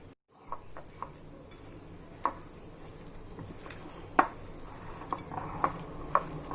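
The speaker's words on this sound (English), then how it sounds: "So let's mix everything together." A spoon works through minced chicken kebab mixture with gram flour in a bowl, soft squelching broken by several sharp clinks and taps against the rim, close and steady, with no talking.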